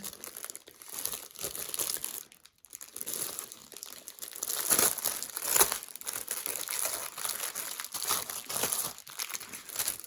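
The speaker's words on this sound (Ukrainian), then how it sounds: "щоб не шелестити вам цим пакетиком" Crinkly rustling of a plastic packet, close and continuous, with brief pauses and louder crumpling bursts throughout.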